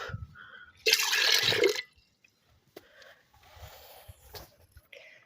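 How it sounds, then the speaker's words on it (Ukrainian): Tap water gushes into a bucket in a greenhouse, a loud splashing pour for about a second, then a softer steady fill with a few drips and clunks, close by. "Будемо ставити тут відерце і набирати водичку."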